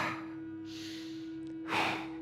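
A relaxed breath during a seated chair yoga exercise, a soft airy exhale through the mouth followed by a fuller, louder breath near the end, close and quiet over a low steady hum.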